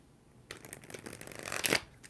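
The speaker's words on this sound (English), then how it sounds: "4 shuffles." A deck of tarot cards is shuffled up close, a quick riffling flutter that builds for about a second and a half and ends in a sharp snap, with no voices.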